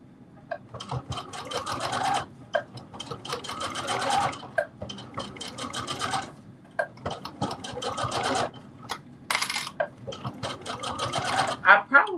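A sewing machine stitches a fabric face mask in bursts of rapid mechanical whirring, pausing briefly between runs, fairly close, with occasional talking over it.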